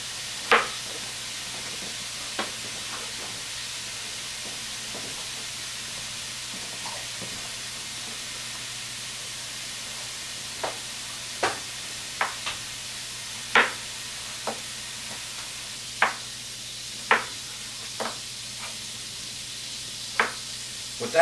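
Potato latke frying in a pan gives a steady, soft sizzle throughout, with scattered sharp pops and crackles from the hot oil coming at irregular intervals.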